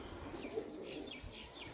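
Batera pigeons, a Sialkoti breed of flying pigeon kept by a fancier, give soft repeated cooing calls, close by and fairly faint, rising and falling over a steady low background with no voices.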